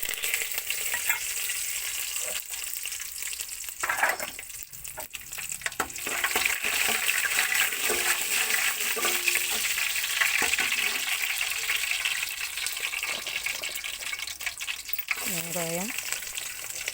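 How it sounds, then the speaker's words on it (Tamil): Mustard seeds, fennel and curry leaves crackle in hot oil in a pan, a steady near sizzle with scattered pops lasting throughout, with faint background voices and household noise underneath. "இப்போ குழம்பு தாளிச்சிக்கலாம்."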